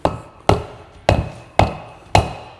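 A seal driver hammers a seal into a truck front hub bore, five sharp metallic blows at an even half-second pace, close and loud with short ringing decays.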